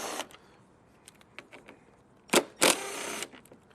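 Two short mechanical bursts from removing the bolts on a 2019-2020 Acura RDX headlight assembly, close and sharp, like a power tool spinning briefly, with faint clicks and handling noise between them.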